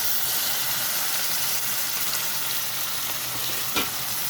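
Kashmiri chilli powder, green chillies and tomato, with turmeric and cumin, sizzle hard in a hot pan while cooking a chang fish curry. The sizzle is a steady, dense hiss throughout, close up, with a small clatter near the end.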